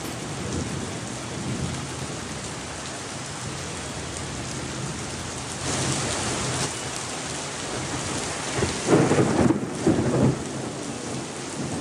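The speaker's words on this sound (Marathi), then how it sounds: "अवकाळी पावसानं पुण्याला झोडपून काढलेले" Heavy unseasonal rain pours over a Pune street, a dense continuous roar of rainfall with rumbling thunder swelling midway and near the end, and no voices.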